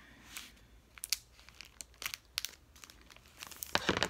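Clear paper packaging on a diamond painting kit crinkles in close, irregular bursts of crackling, growing busier toward the end.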